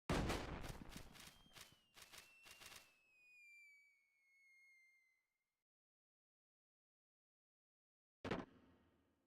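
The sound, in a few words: firework in the video game Final Fantasy XI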